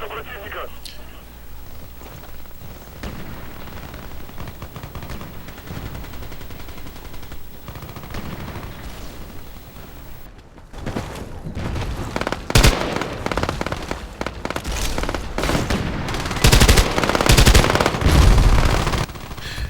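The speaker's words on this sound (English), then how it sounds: "one really important thing to remember with this gun, and actually most of the light machine guns, is that you can't fire from the hip" A light machine gun in a video game fires in dense, sharp bursts that grow louder and heavier in the second half, with a player talking over the quieter opening.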